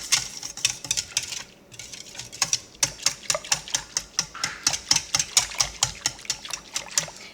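Vanilla custard ice cream mixture is stirred in a bowl with quick, regular scraping and clinking strokes, about two or three per second, close and clear, with a brief pause near the start.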